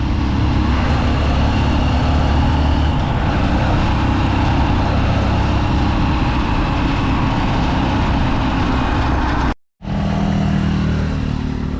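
A Honda Supremo motorcycle engine idles steadily and smoothly up close, a constant low rumble broken by a brief cut-out near the end before it resumes.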